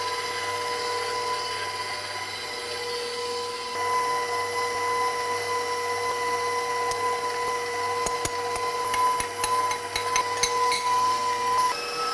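An electric mixer with a wire whisk beats frosting at medium speed, a steady close-up motor whine with a constant hum, later joined by light clicks and taps.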